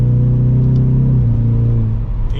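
A 2022 Ford Mustang EcoBoost High Performance Package accelerates in track mode with manual shifting, its engine a loud, steady rumbling drone that climbs and then drops in pitch as it shifts, close to the microphone with no talk.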